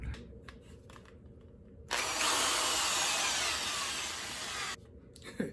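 A power drill driving sheet metal screws into a Chevelle body panel whines steadily for about three seconds, close and loud against a quiet shop background, with brief softer clicks before and after.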